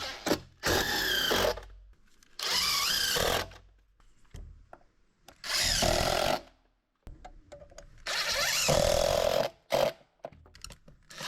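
A power drill drives screws while building a deck, whirring in several bursts of a few seconds each, the motor pitch rising and falling, separated by short pauses and clicks.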